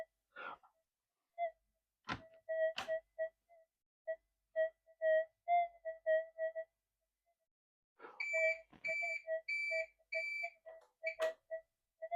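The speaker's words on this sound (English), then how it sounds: "The UPS, it'll start beeping if I turn it off." UPS battery backup unit beeping in a quiet indoor room, short tonal beeps in irregular runs with a denser burst near the end, faint, with a few clicks and handling noises.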